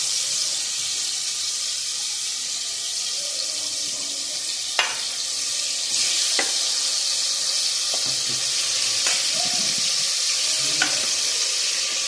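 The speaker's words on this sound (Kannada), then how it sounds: "ಎಣ್ಣೆ ಚಲೋ ತನಕ ಕಾದೈತೆ ರೀ. ಈಗ ಎಲ್ಲನೂ ಕುಕ್ಕರಿಗೆ ಹಾಕ್ಕೊಳ್ಬೇಕದು." Steady loud sizzle of ingredients frying in hot oil inside a pressure cooker, a continuous hiss broken by a few sharp clicks and stirring taps.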